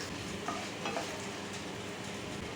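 Coriander seeds and dried red chillies fry in a spoonful of oil in a pan, giving a steady, even sizzle with a couple of faint clinks, close and uninterrupted.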